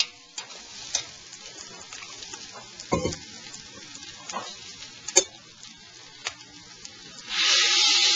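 Chicken stock poured into a pan of sizzling paella rice, a loud rushing sizzle that swells at the end after scattered light clicks and scrapes.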